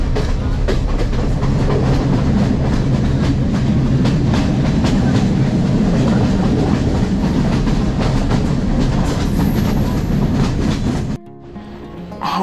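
Steady rumble and clatter of a moving train on the Badulla line in Sri Lanka, loud and continuous with rhythmic wheel clacks, ending abruptly as it cuts to near quiet.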